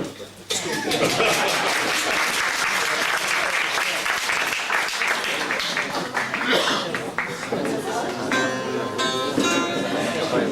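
Audience applause at a memorial event with live music, rising quickly into a dense, lively round of clapping with scattered chuckles and voices, gradually thinning toward the end.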